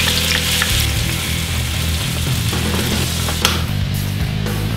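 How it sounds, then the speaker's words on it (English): Onions and peeled, diced garlic browning in olive oil and butter on a stovetop, a loud, close, steady sizzle with a low hum beneath and a few faint utensil taps. "Brown those onions in some olive oil and butter, along with a few cloves of peeled diced garlic."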